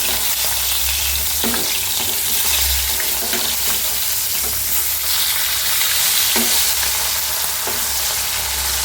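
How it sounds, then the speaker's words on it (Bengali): Fish frying in hot oil on a stove for a hilsa curry, a loud continuous close sizzle with periodic scraping stirs and low burner rumble, no talking. "এখানে তো মাছ ভাজা হচ্ছে এই চুলাতে।"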